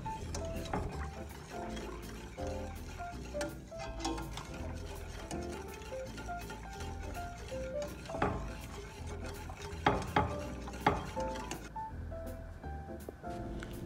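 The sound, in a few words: stirring yoghurt laban sauce thickened with cornstarch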